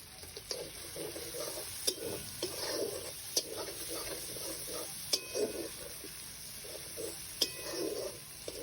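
A spice paste made with Kashmiri chilli fries in oil in a pan, giving a steady close sizzle. Periodic stirring scrapes and occasional light clinks of a utensil against the pan sound over it.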